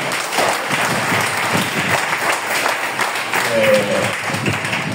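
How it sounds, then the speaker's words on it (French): Steady applause from a church congregation acclaiming the Lord, many hands clapping together in a continuous roomy wash, with a brief voice briefly rising over the clapping near the end. "on va acclamer le Seigneur"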